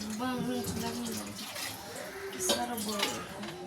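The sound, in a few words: water filling a container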